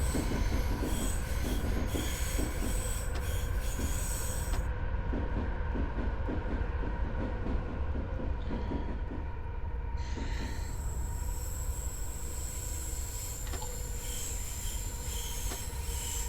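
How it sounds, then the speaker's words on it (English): An electric Utsunomiya Line commuter train rumbles steadily close by near Ueno, wheels squealing and rails clicking as it rolls in, with a constant low roar throughout. "There's another Utsunomiya line train coming in."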